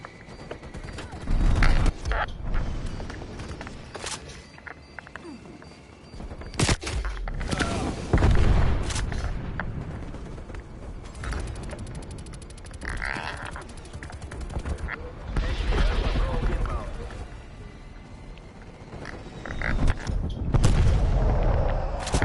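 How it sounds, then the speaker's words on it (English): Strafing-run gunfire and explosions in a shooter video game, repeated heavy booms and bursts of rapid fire coming in waves, with voices speaking between the blasts. "Strafe run incoming on your location."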